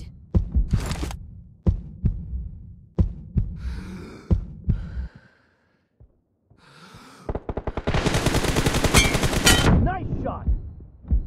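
Gunshots crack in PUBG Mobile, a series of single sharp shots at a steady pace, a short pause, then a long dense burst of rapid automatic fire, with brief voice-like sounds between.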